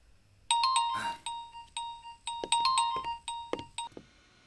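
A mobile phone ringtone plays close by, a bright electronic chime repeating its notes in a steady rhythm, with a short burst of rustling noise early on and no voices.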